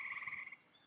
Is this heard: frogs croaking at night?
yes